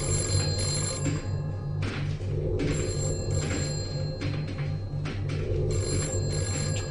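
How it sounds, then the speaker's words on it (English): An old telephone bell rings in repeated bursts, loud and close, with short pauses between rings and no talking. "That's a phone. That hasn't rung in years."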